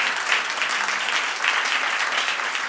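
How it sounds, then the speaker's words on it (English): Steady applause from a seated conference audience, a dense wash of many hands clapping at an even level for the whole stretch, with no voices standing out. "Let's applaud Jenny."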